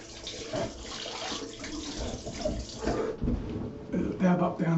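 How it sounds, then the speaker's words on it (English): Cold tap water splashes and gurgles close up as a face is rinsed after a traditional wet shave, uneven cupped-hand bursts and sloshing at the sink, with some low bumps in between. "Cold water rinse for me now."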